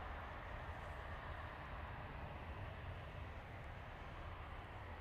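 An Emirates Airbus A380 departs runway 23 left at Manchester Airport at night, a steady, broad, distant jet roar with heavy low rumble that holds evenly throughout, with no voices.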